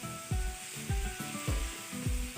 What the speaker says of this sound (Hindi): 1 से 2 मिनट और हम फ्राई करेंगे इसको